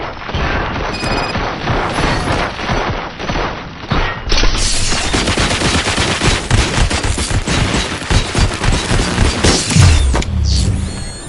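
Heavy gunfire from the video game Robocop: Rogue City, a dense, loud barrage of rapid shots and booming impacts that intensifies midway and runs almost continuously, with mechanical clanks mixed in.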